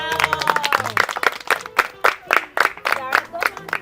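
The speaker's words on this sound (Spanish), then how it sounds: "Un aplauso, bravo." Applause at an 80th birthday tribute, close, distinct claps in an uneven rhythm from a small group, mixed with voices cheering and calling out.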